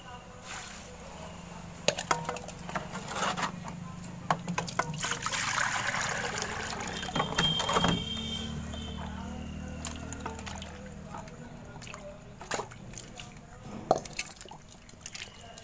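Water poured and splashing while goat intestines are washed by hand in a kitchen, with irregular trickles and sloshes, occasional knocks of a vessel, and a voice talking faintly in the background.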